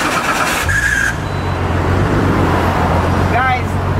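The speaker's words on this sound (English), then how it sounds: "I'm gonna run the engine." The engine of a Nissan Skyline R33 GT-R starts and settles into a steady, low idle rumble that carries on evenly, close by, with a brief higher squeal near the end.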